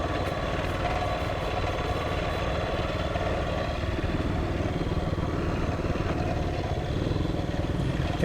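A homemade ride-on lawn mower engine runs steadily while cutting dense, matted grass on soft, wet ground, a loud continuous rumble with rattling clatter, holding even throughout with no talk.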